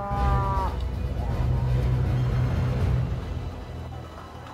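A cow moo sound effect: one long, loud, low bovine moo that drones for about three seconds alone, then fades out.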